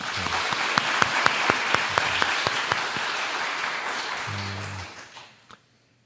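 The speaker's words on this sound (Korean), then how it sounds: "모두 함께 하나님께 영광의 박수 올려드릴까요?" A church congregation claps together at a Sunday service, steady applause with a few sharp individual claps standing out, briefly overlapped by a voice before fading out near the end.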